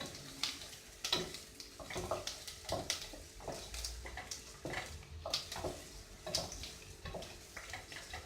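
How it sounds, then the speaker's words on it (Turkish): Diced onions and a small diced potato sauté in a pot for Turkish lentil soup, a soft sizzle under irregular scraping and clinking of a spoon stirring against the pot, close and fairly quiet. "Bir iki dakika sebzelerle birlikte soğanımı kavuruyorum"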